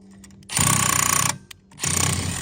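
An impact wrench on a motorcycle swing arm extension install hammers in two loud bursts, the first nearly a second long, the second after a brief pause, close up with no talk.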